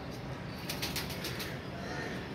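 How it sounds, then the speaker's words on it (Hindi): A pigeon flies overhead with a brief burst of faint, rapid wing flaps over a steady hiss of background noise. "ये ऊपर फिर रहा है जी कबूतर हमारा"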